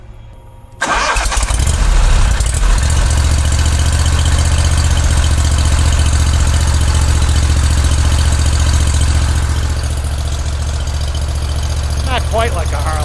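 A 2024 Ferris ISX 3300 zero-turn mower with a 40HP Vanguard engine starts and settles into a loud, close, steady idle with an even low throb; a voice speaks briefly near the end.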